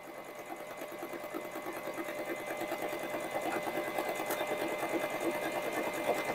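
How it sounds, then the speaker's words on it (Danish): A Husqvarna Viking Onyx sewing machine stitches a buttonhole in one continuous run, its needle chattering in a fast, steady mechanical rhythm that grows slightly louder, close by with no talking. "Og nu syr så maskinen knaphullet efter den knap, der ligger i trykfoden i en arbejdsgang."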